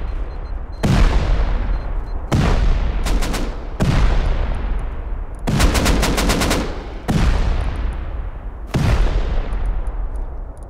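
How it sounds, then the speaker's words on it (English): Heavy automatic gunfire in the survival game Rust, as a base's turrets pin a player down at night: six loud bursts of rapid shots, each with a long echoing tail, coming every second or two with no talk. "Something's shooting me."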